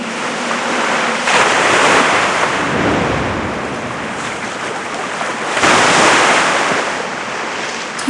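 Ocean waves in Dragon Raja surge and roll in a loud, continuous wash, with two heavier swells cresting and no voices over them.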